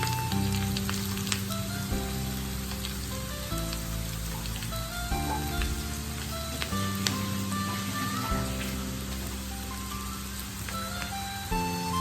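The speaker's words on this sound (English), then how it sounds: "Now we'll add the noodles." Noodles and vegetables sizzle steadily in a pan during Hakka noodle stir frying, a constant close crackle with music playing underneath and no talking.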